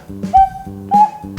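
Two clear whistle-like recorder notes, each started with a soft, light tongued attack, separated by a brief lower tone, played close and fairly loud.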